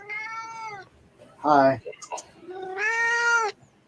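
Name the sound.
cat meowing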